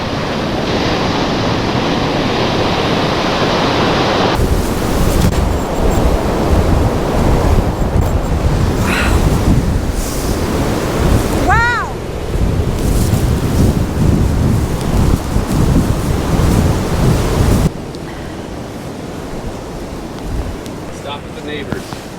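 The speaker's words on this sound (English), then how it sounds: "It is crazy windy" Strong gusty wind on the Lake Ontario shore roars continuously, mixed with crashing surf, a loud, dense rush that drops somewhat near the end, with brief voices in between.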